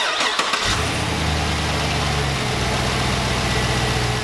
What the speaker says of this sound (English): Let's fire up this engine and see what happens.